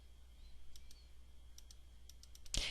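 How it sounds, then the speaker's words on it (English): Quiet, scattered clicks of numbers being typed on a computer keyboard, a few irregular taps close by, ending in a louder clack. "Let me finish typing these in."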